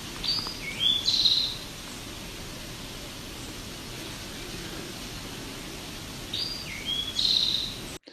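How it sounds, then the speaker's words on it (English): An Eastern towhee sings two bright drink-your-tea phrases several seconds apart, clear but moderately distant against steady hissing background noise. "if you hear something similar to drink your tea, it probably is the Eastern towhee"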